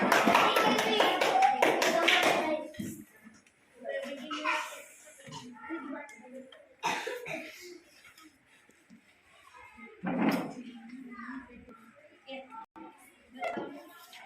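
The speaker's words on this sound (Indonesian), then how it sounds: "Ya, tepuk tangan." Students clapping in a classroom, a loud burst of group clapping at the start that fades into scattered taps, quieter sounds and brief voices of children talking.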